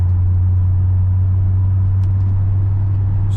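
Mercury Marauder cruising on the road, with a steady low engine and tire drone holding even throughout, smooth and unchanging, no talk over it.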